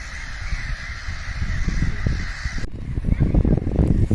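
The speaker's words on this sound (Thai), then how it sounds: "นี่แต่เสียงนก" Birds cawing repeatedly in the open air, over low rumbling background noise, with no clear speech.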